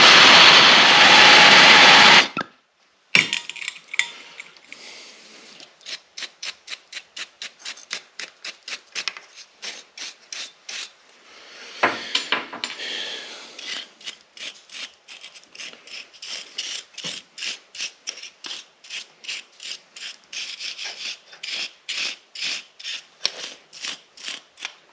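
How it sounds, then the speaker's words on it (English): A brass wire brush scrubs a cut masonry nail in quick repeated back-and-forth strokes, a dry scratchy rasping rhythm up close, after a brief loud burst at the start. "I'm going to go grab another brass brush, because I don't know if that one's a solid brass brush."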